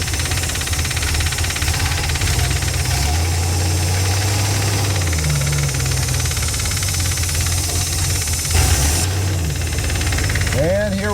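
A 1977 Dodge motor home engine, revived after a fuel pump swap, idles steadily and close by with a rough, knocking mechanical rumble, with a brief change in pitch as it runs on.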